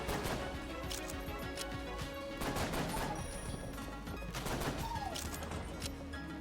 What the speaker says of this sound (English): Diamond bullet gun.